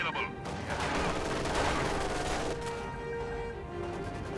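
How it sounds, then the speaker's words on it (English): Machine gun fire and battle noise from the World War II strategy game Company of Heroes 2, a dense, continuous rattle of shots layered with explosions at steady loudness. "Oh, machine gun."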